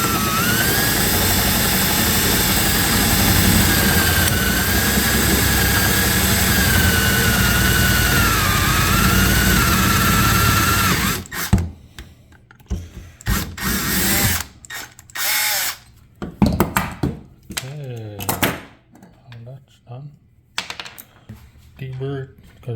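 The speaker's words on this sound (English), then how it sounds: "Slowly drill it out, you know." A power drill grinds steadily at close range while boring out a hinge pin during an M2C hinge pin kit install, running continuously, then breaking into short intermittent bursts and pauses.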